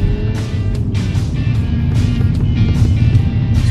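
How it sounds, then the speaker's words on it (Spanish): A BMW 128ti rolling over speed bumps, with dull repeated thumps from the suspension over a steady cabin road rumble, close and moderately loud. "Acá estamos pasando por unos baches, unos policías acostados o topes"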